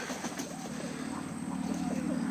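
Pigeons, Portuguese tumblers and Egyptian swifts, coo softly and repeatedly in their loft, low rolling calls under a steady background hum, fairly close but not loud.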